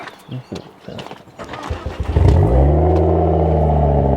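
A hot hatch car engine with a straight-pipe, decatted exhaust starts with sputtering, then settles into a loud, deep, raw exhaust drone that rises and holds steady, close by.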